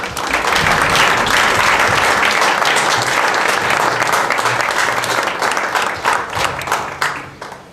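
Loud, full applause from a lecture audience welcoming a professor before his talk, dense clapping that holds steady for several seconds and then thins into scattered claps as it fades.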